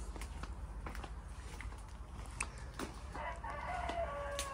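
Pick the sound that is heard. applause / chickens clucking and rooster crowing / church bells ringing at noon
chickens clucking and rooster crowing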